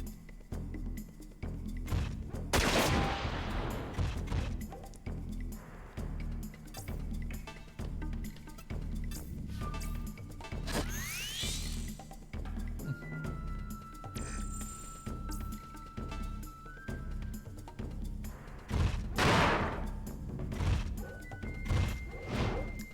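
Gunfire is shot over a fence in Front Mission 4, heard as a long run of sharp clattering hits and dull thuds, with heavy crashing bursts near the start and again toward the end.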